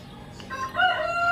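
A rooster crows close by beside a backyard chicken coop next to a house, its drawn-out, harmonic call rising and swelling over faint background murmur.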